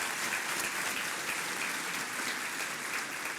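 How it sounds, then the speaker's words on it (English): Steady, dense applause from a luncheon audience thanking the meal servers, a continuous wash of many hands clapping at even loudness for several seconds with no voices standing out. "Let's give them all a round of applause."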